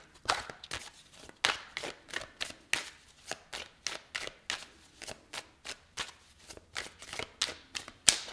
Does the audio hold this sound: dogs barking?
no